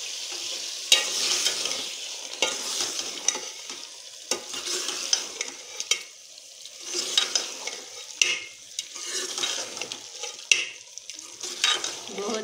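Spinach and potatoes fry together for aloo palak, a soft steady sizzle broken by frequent spoon scrapes and knocks against the pan, close and irregular.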